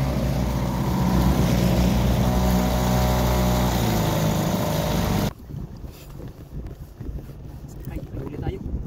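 A motorboat engine roars loud and close on the water at a fishing spot, then drops off abruptly partway through, leaving wind and water noise with voices chatting nearby.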